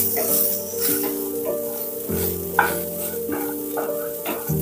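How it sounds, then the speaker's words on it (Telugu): Peanuts and cut green chillies fry in a pan for a raw coconut chutney, giving a steady sizzle with scraping stir strokes and clinks throughout, close and moderately loud, with steady tonal background music underneath. "ఇది సగం వేగిన తర్వాత ఇందులో పచ్చిమిర్చి వేస్తున్నాను"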